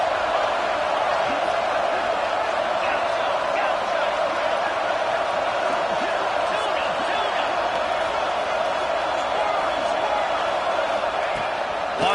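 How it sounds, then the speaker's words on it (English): A big stadium crowd at a Penn State versus Florida State football game in Happy Valley roars steadily and loudly on third down, a dense wall of voices with no break or lull. "Here comes the noise from this big crowd in Happy Valley on third down."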